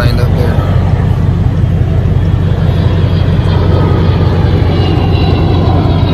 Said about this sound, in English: airplane up there.